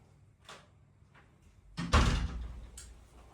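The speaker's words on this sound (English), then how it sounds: "I'm just going to close that door" An interior room door is pushed shut with a single solid, close thud after a few faint handling sounds, followed by a softer click as it settles.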